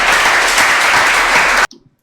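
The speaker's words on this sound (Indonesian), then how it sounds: "Tepuk tangan." A classroom of students applauds, a dense burst of clapping for about one and a half seconds that stops abruptly, followed by faint small sounds in near silence.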